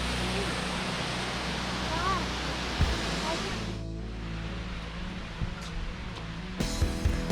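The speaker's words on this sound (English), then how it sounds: "standing here at Cane Creek Falls Overlook, right below the Betty Dunn Nature Center." Cane Creek Falls, a waterfall in Fall Creek Falls State Park, Tennessee, heard from an overlook as a steady broadband rush of falling water, loud and continuous, with a voice talking over it at moments.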